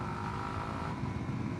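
Suzuki DRZ400S motorcycle exhaust while riding, a steady, moderately loud engine drone with wind rumble, continuous and even throughout.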